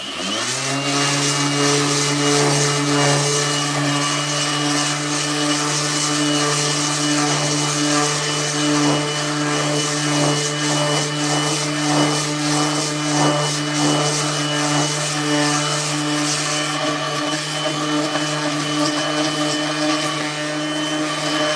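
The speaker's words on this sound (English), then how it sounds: "Get the old trusty dusty Bosch sander." An old Bosch power sander works an epoxy cutting board, whirring up quickly and then droning loud and steady at close range for over twenty seconds with no talking.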